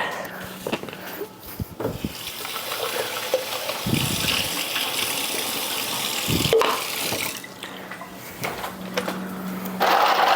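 Tap water runs from a kitchen sink faucet into a glass, a steady gushing stream with a brief pause midway, close and moderately loud, with faint background noise.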